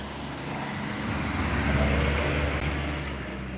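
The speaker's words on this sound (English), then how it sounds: "You can see in the mirror there's a car coming." A car drives along a narrow country road in Japan, giving a steady low engine and tyre rumble that swells slightly in the middle and then eases, with no voices.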